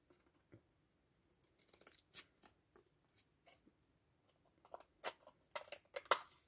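A craft blade slices through cardboard in a series of short, faint scraping strokes, sparse at first and then quicker and denser toward the end, close and quiet.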